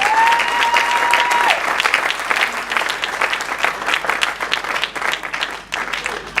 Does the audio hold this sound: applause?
yes